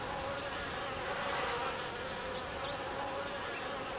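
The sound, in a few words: hornets and honeybees buzzing around beehives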